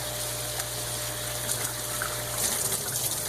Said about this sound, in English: Rinse off our seed.